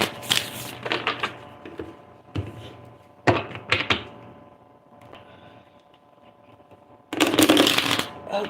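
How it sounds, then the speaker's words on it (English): Tarot cards are reset and shuffled in several brisk riffling bursts, loud and close, with quieter shuffling between and a final long, dense shuffle near the end. "So I'm resetting the cards now, Shah Rou."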